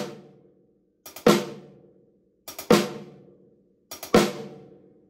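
Drag rudiment played three times on a drum kit, a quick double on the hi-hat followed by a main stroke on the snare drum, each figure crisp and close, separated by short silences with no talking.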